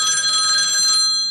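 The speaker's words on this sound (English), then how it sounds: "My phone is ringing." A telephone rings with a bright, steady electronic trill for about a second, then cuts off and the tone fades quickly into quiet.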